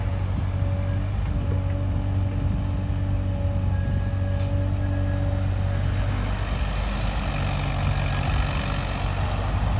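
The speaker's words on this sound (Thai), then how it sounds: "ใช้เป็นเครื่องยนต์ 3 สูบครับ 3 สูบของยันมานะเครื่องยนต์ยันมา" A SANY SY35U zero-tail-swing mini excavator with a 24.5 hp Yanmar three-cylinder engine runs steadily, a low droning idle with a constant hum that holds throughout, with no talking.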